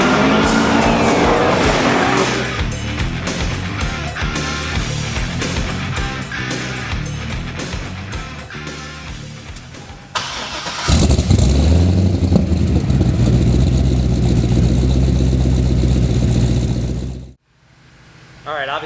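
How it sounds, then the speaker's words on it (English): A twin-turbocharged 1200-horsepower 2007 Corvette Z06 engine, loud and close, with revving and idling swells, a sharper louder roar in the latter part, then a sudden cut near the end. "This is a 2007 Corvette Z06, but it's a twin turbocharged 1200 horsepower beast."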